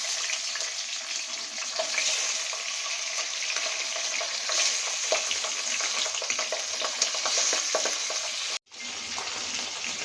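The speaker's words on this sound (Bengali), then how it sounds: "মাছটা ফ্রাই প্যানে দিয়ে দিচ্ছে" Pabda fish fries in oil in a frying pan, giving a dense, continuous close-up sizzle with fine spattering crackles that cuts out for a split second near the end before resuming, with no talking.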